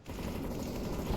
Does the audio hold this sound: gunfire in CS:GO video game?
yes